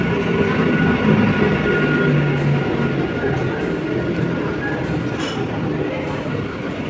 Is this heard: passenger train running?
yes